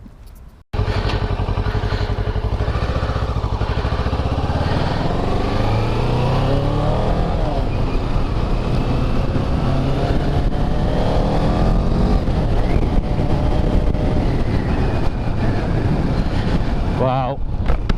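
Kawasaki Ninja 650 (ER6F) motorcycle engine running close by, steady and loud with rising and falling revs throughout, a rider's voice talking over it.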